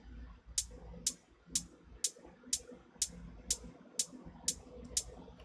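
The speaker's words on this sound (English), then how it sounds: "So moving on, we have this closed hat" Closed 808 hi-hat in Ableton, heavily EQed, ticking in a steady even pulse of about ten short crisp hits over a faint low backdrop.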